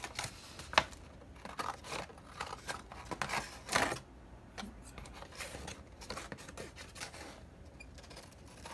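Scissors snipping through paper to split it into journal signatures, a series of close, crisp cuts and rustles at an irregular pace with no talking.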